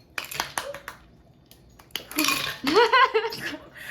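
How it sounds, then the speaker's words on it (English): Ice cubes dropped into a blender jar for a mango lassi in a home kitchen, giving a burst of bright clinks and rattles over a couple of seconds after quieter handling knocks. "Onto that, I'll put some ice cubes."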